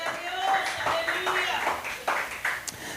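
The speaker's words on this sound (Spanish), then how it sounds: "¿Cuántos le dan palmas al Señor?" Congregation clapping for the Lord during a Spanish-language church sermon, scattered claps with a few sharper hits rising over an ongoing mix of voices and reverberant room sound.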